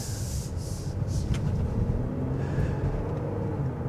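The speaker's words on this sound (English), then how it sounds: "driving over those railroad tracks, that really tests how noisy the interior is" Steady road rumble inside a 2025 Honda Pilot Black Edition as it drives over railroad tracks, a continuous low cabin drone with light rubbing and a few faint bumps, no talking.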